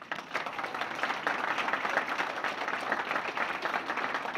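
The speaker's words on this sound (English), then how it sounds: "let's give a big round of applause to Miss Pat Ward-Seib" Hall of fame induction audience at Murray State gives sustained applause for an inductee, a steady crowd of clapping hands in a large room, moderately distant and unbroken by speech.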